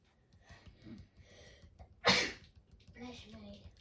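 A single sharp sneeze bursts out suddenly midway, loud and close, with quiet talk before and after it.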